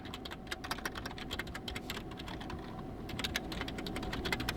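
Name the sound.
typing an email address on a computer keyboard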